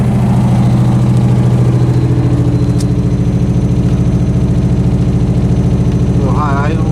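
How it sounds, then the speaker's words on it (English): A Nissan 300ZX engine idling slightly high after being restarted, a loud close steady rhythmic pulse that runs throughout, with a voice briefly heard over it. "A little high idle."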